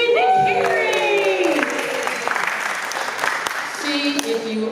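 An audience at a Grove city gathering gives a short round of applause for the Sergeant of Arms, Judy McCary, a brief patter of claps mixed with voices and whistle-like tones that fade out mid-clip before a few sounds return.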